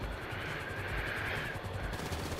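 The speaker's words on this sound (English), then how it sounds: "Take care of that chopper." Helicopter in Grand Theft Auto V, a steady rotor drone filling the scene with dense gunfire crackling over it throughout, loud and continuous without speech.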